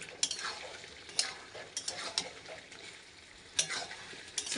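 Chicken pieces stir-fry in a spice paste, giving a close sizzle and fry under repeated scraping strokes of a spoon against the pan, with about half a dozen sharp stir accents.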